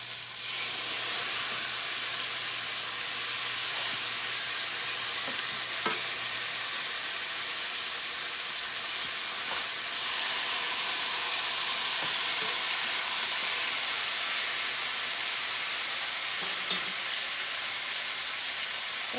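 Pork chops sizzle steadily in a hot pan, a loud, continuous hiss of frying that runs throughout without any talking.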